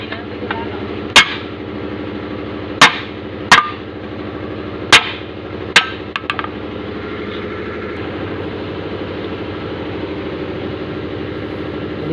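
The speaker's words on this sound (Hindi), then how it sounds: "अभी ठोक ठोक की सेटिंग करना पड़ता है।" Sharp metallic hammer blows seat the lock ring of a dumper truck tyre, five or six irregular strikes ringing out over a steady idling engine drone, then only the engine hum continues.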